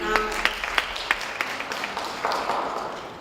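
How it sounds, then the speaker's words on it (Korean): A small audience at a community media forum gives a light, scattered round of clapping to welcome the next presenter, with individual claps standing out rather than a full roar. "박수로 맞아주시면 감사하겠습니다"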